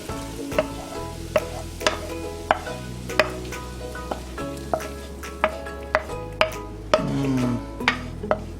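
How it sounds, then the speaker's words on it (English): Cooked onions tipped into a pot for an Italian meat and tomato sauce, with steady frying sizzle under a series of sharp spoon and pot clinks spaced about half a second apart. "I'm going to put the cooked onions into the pot."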